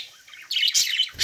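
Budgerigar in an aviary colony, chirping and warbling in quick, bright bursts close by, with short pauses between phrases and no talk.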